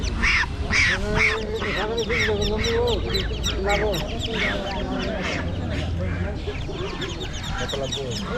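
Native deshi ducks crowded at a village market in Bangladesh keep up a loud, dense run of quacks and honks, nearby and unbroken, while people talk in the background.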